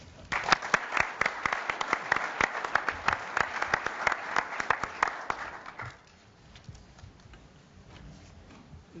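A conference audience applauds to welcome a speaker to the stage, a dense burst of many hands clapping for about six seconds before it cuts off to a quiet hall.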